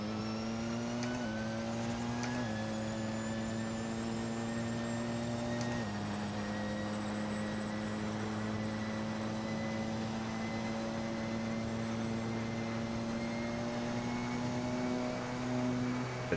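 Porsche 919 Hybrid prototype race car in Assetto Corsa at Le Mans, engine droning steadily near the rev limiter with a low buzzing hum, pitch stepping with gear changes over sixteen seconds, loud and continuous with no talk.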